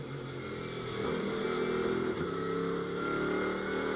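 Blancpain GT World Challenge America race car at Las Vegas Motor Speedway short-shifting, a steady engine drone that rises as the car pulls through a gear, heard at moderate distance.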